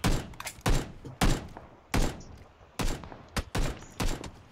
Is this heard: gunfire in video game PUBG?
yes